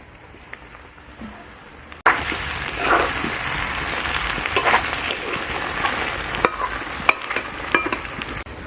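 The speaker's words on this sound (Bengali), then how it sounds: "এর মধ্যে ভেজে রাখা মাছের ডিমগুলো এইবারে দিয়ে দেবো।" Fried fish roe tossed into a pan of potato and pointed gourd, a quiet start giving way to a steady close sizzle with scattered scraping stirs and clicks.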